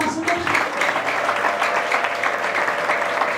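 A church congregation claps together in sustained, dense applause, steady and fairly loud throughout, with faint voices mixed into the clapping.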